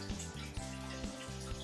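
Tap water runs onto a paper towel in a home kitchen while enchiladas are being prepared, a steady close trickle over a low humming background.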